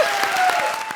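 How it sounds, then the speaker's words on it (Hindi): A studio audience at a televised comedy show breaks into a brief, loud burst of steady clapping applause. "जोरदार तालियां हो जाएं।"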